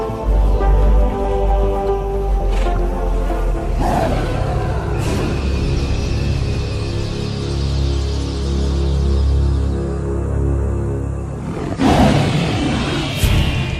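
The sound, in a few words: lion roaring from afar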